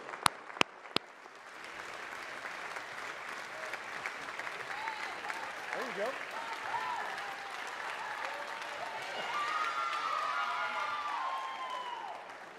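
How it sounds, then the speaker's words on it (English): A few sharp claps open, then a large audience at a university athletics awards ceremony breaks into sustained applause, steady and fairly distant, with some cheering and murmured voices mixed in. "let's give them a nice round of applause as well"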